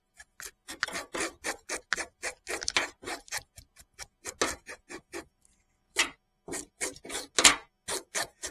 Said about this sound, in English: So now we're just going to scale these.